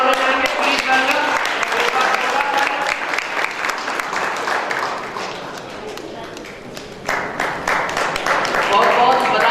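A seminar audience applauds for Pushpendra ji, loud and dense clapping that continues throughout, dips briefly midway and then swells again.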